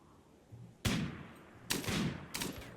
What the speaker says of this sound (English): Hunting with a sniper rifle and a machine gun.